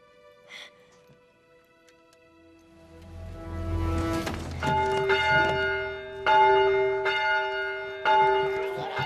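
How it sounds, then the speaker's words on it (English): A bell rung by hand in a Christmas fantasy setting, starting faintly then swelling into loud, sustained tolling strikes that ring out repeatedly with long resonant tones, roughly one strike every second or two. "You're going to need two hands to ring that bell."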